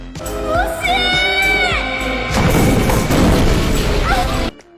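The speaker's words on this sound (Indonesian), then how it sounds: "Ledakan ini meledak sangat besar." Shouting voices give way to a loud crashing blast with a long noisy rumble from a huge film explosion, then the sound cuts off abruptly.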